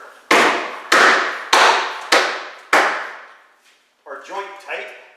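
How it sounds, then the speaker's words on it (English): A hammer pounds a plywood tongue into its groove while building a DIY round hay bale feeder, five loud, evenly spaced blows ringing out alone, followed by brief talk. "we're going to pound the tongue into the groove"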